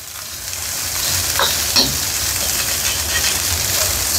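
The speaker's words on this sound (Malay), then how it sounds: "Gaul telur dan nasi sekali" Egg and rice stir-fried together in a hot pan for nasi goreng, a steady close sizzle with scraping stirs and occasional spatula clinks throughout, no talking.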